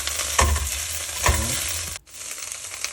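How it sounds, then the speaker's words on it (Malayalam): Greens such as spinach and drumstick leaves are stirred in a hot pan for garlic noodles, giving a steady sizzle with two distinct scraping strokes and a brief break before the frying resumes, with no voices. "അതിട്ട് ഒന്ന് ചൂടാക്കി ഒന്ന് ഇളക്കി കൊടുക്കുക"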